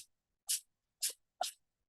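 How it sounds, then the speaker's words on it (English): Three quick, sharp sneezes from an 11-to-12-year-old cat, evenly spaced about half a second apart, close and fairly soft with silence between. "that's my cat sneezing"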